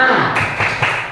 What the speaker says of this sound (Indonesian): Baik, mari kita tepuk tangan dulu semuanya. Oke, tepuk semangat.